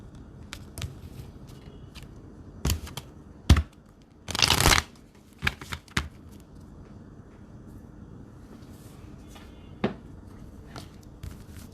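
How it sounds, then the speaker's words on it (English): Tarot cards being shuffled by hand, several short riffling bursts and soft taps, close and fairly quiet, with one longer flurry in the middle. "Let me shuffle my card."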